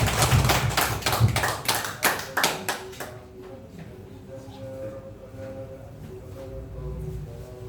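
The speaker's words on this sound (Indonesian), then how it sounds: "Tepuk tangan untuk kemuliaan Tuhan." Congregation applause at a church worship and prayer night, a dense burst of many hands clapping loudly for about three seconds, then fading into quieter room tone with soft music.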